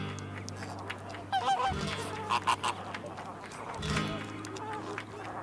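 Flamingos calling at a salt lake, a flock giving honking, goose-like cries in short bursts near and far, with a narrator's voice talking over them.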